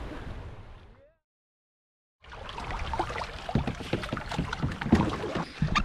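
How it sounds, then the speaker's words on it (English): A canoe rides bouncy waves on a river, with continuous rushing water and splashing slaps close to the microphone, loud and steady after a brief silent gap. "Nice and bouncy, big waves, and managed to get some water in the canoe, but nothing too serious."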